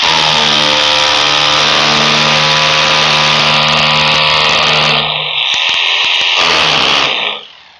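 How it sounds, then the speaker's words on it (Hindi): Power drill boring into a wall for an indoor split AC installation, a loud continuous whine that holds steady, then stutters briefly and cuts off near the end. "चलिए ड्रिल करिए।"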